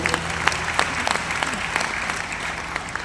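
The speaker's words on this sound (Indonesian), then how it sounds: "Beri tepuk tangan dulu buat Yesus" Congregation clapping together at a church service, a steady dense patter of many hands filling the whole stretch at moderate loudness, with no voices over it.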